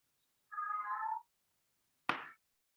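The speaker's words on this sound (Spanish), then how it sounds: "¿Ustedes oyen al gato loco?" A cat gives one clear, drawn-out meow, fairly close and moderately loud, followed after a pause by a single short sharp knock or thump.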